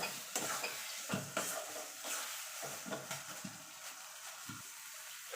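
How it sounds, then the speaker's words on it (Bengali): Fried prawns are stirred into cooked taro leaves in a pan, producing a low sizzle with repeated spatula scrapes and soft knocks against the metal, close by and fairly quiet. "এবার দিয়ে দেবো চিংড়ি মাছটা যেটা ভেজে রেখেছিলাম, দিয়ে ভালো করে মিশিয়ে নেব"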